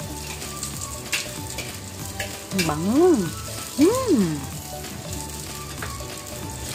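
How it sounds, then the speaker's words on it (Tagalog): Onion, garlic and ginger sauté in a pan with a continuous crackling sizzle, while a person speaks briefly in the middle over the frying. "igisa po yung sibuyas, bawang, at saka luya"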